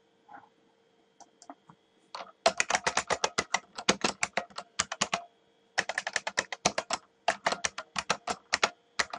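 Database query typed on a computer keyboard, bursts of rapid close key clicks with short pauses between words, crisp and alone after a quiet start.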